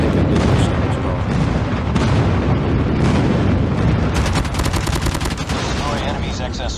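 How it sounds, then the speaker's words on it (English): Dense, loud barrage of explosions and rapid gunfire from an airstrike in the Call of Duty Mobile video game, with continuous blasts and a fast burst of shots near the end. "Friendly airstrike incoming."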